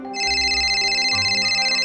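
A phone rings with a bright electronic tone, a steady sustained melody loud and close, with no talking over it.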